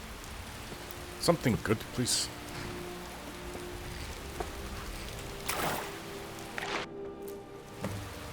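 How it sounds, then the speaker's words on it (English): Steady rain in a video game patters in the background while someone speaks briefly, with a few louder splashy bursts scattered through. "It's raining right outside my home"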